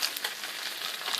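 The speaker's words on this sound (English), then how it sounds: "now I'm going to cook some of the onions" Onions fry in a pan with a homemade sauce meant for steak, giving a steady, close hiss of sizzling with faint crackles and no voices over it.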